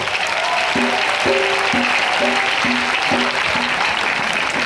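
A church congregation applauds steadily, with dense sustained clapping throughout while an organ or keyboard plays a repeating chord pattern beneath.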